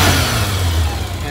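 A 2001 Kawasaki ZR-7s motorcycle engine revs up close, a loud, steady mid-pitched engine roar held for a moment with no talking.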